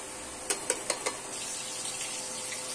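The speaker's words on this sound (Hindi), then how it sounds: "ये देखिए फ्रेंड हमारा प्याज भून रहा है" Chopped onions fry gently in a pan for a chicken dish, a soft steady sizzle with a few quick clinks of stirring near the start, quiet and close.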